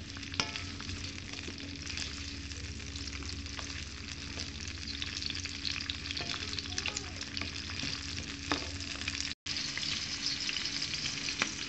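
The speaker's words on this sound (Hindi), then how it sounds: "हमें हल्का सा फ्राई करना है।" Chicken chow mein ingredients fry lightly in a pan with a steady, close sizzle and occasional stirring clicks. The sound runs continuously for the whole stretch, briefly dropping out once, and no one speaks.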